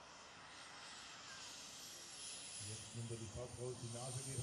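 A large RC model airplane comes in to land, its engine a steady hiss-like drone throughout, with a person talking over it in the second half.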